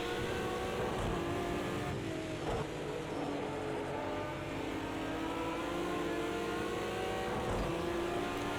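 Race car engines in Project CARS 2 around a Porsche roar close and loud as an engine climbs steadily through revs, with brief shifts and another car droning alongside.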